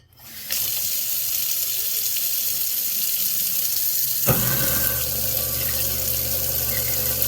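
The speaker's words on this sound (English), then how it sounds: "let's turn on the water and test it out" A kitchen faucet turns on and water runs steadily into a sink fitted with a Moen EX75C garbage disposal, rising briefly at first, then a louder splashing surge partway through; no talking.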